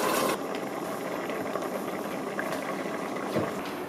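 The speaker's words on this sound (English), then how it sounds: "now I'm going to add my hot stock. Can you hear that sizzle?" A soft, steady sizzle and bubbling of hot stock hitting a hot crab risotto pan, close by and fairly quiet, with a few faint clinks.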